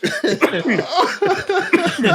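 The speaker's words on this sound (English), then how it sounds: "oh, sorry, I've got a cough." Several quick, harsh coughs in a row, close and loud, with short breathy bursts between them.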